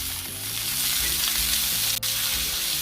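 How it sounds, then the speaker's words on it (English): Butter and garlic sizzle loudly in a pan beside a rib eye steak being cooked well done, a steady dense frying hiss that runs unbroken and close, with a brief dip near the end. "I'm just going to add the butter to the side"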